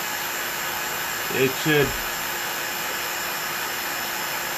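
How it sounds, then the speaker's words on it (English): Vacuum pump drawing down a refrigerator's sealed refrigerant system, a steady loud broadband roar running throughout, with someone speaking briefly over it. "So right now I'm opening the valve so that my vacuum machine can suck all whatever is there out."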